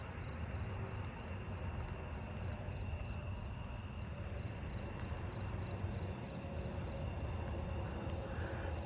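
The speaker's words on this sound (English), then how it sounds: "Oh, I'm hearing the pine tree crickets." Pine tree crickets trilling in a continuous, even drone outdoors at night, a dense steady insect chorus with no voices.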